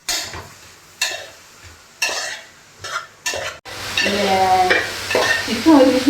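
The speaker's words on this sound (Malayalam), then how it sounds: "കടുക് പൊട്ടി ഇനി സവാള ഇടുക." Sliced onions go into hot oil with popped mustard seeds in a pan, bursting into a loud, steady sizzle after a series of stirring and scraping clatters, with the frying rising and crackling throughout.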